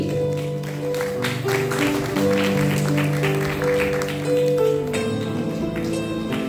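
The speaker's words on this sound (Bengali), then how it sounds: "সবাই একটু জোরে করতালির মাধ্যমে উৎসাহিত করি।" An audience at a children's art award ceremony claps for a young recipient, a sustained patter of hand claps over tonal background music.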